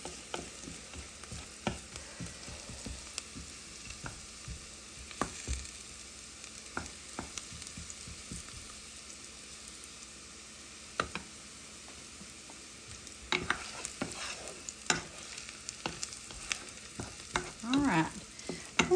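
Flour-coated meat for bangers and mash sizzles in a hot pan while a utensil stirs and scrapes in irregular bursts, close and fairly loud, no one speaking.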